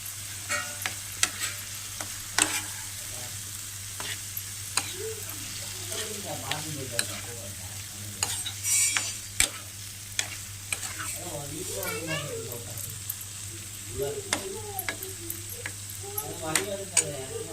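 Turmeric-washed prawns are tossed into frying masala for a prawn gravy. A spoon scrapes and clacks against the pan in irregular strokes over a low sizzle, while a person talks intermittently.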